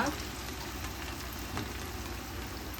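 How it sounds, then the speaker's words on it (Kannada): French fries frying in hot oil in a home kitchen, a steady soft sizzle and crackle that carries evenly throughout at low volume. "ಎಣ್ಣೆ ಚೆನ್ನಾಗಿ ಕಾದಿದೆ. ಇದಕ್ಕಿವಾಗ ಫ್ರೆಂಚ್ ಫ್ರೈಸ್ ಹಾಕ್ಕೊಳ್ಳೋಣ."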